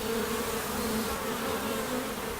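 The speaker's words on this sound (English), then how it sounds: "These bees have come out of the sky too, with weighty sacks of pollen on their legs." Dense, continuous buzzing of many bees swarming close by hives, bees carrying pollen, a steady droning hum with no gaps.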